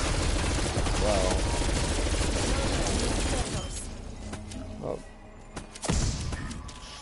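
Rapid automatic fire from a FARA 83 rifle in Call of Duty Zombies, loud and continuous for about three and a half seconds, then quieter game sounds with a couple of brief thumps.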